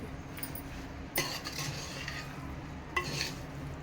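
Raw chicken being mixed with salt by hand in a metal pot for chicken dum biryani, soft wet stirring with a couple of sharp clinks against the vessel.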